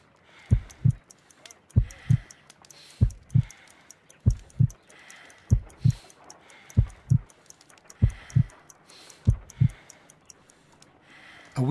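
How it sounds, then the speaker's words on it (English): Heartbeat in the video game Sherlock Holmes: Crimes and Punishments: a slow, steady lub-dub pulse of about ten paired deep thumps, prominent and close over a faint background hum, with no talk. "I need to concentrate and count the heartbeats."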